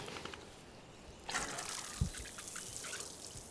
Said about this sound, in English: And I'm going to get a little bit of water.